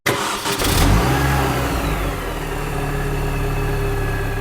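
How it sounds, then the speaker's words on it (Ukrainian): A car engine cranks and catches, then runs at a rough, uneven idle, misfiring on three cylinders with smoke from the exhaust, loud and close, with no voices. "Заводжу автомобіль, він якби заводиться, але працює на трьох циліндрах"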